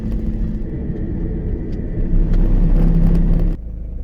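An empty Rover transport truck drives along the road, giving a steady, loud engine rumble and road drone heard from inside, without talk.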